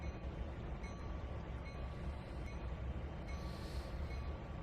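A long train rolls along in the Trainz 2022 rail simulator, a steady low rumble of heavy cars with faint rail noise, continuous and even, with no talking.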